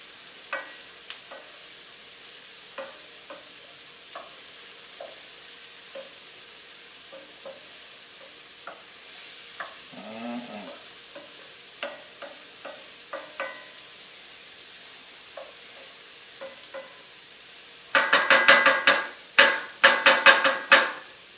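Onion fries in a pan while a utensil stirs it, giving soft scattered sizzling and light scraping taps that end in a louder burst of rapid clattering strokes.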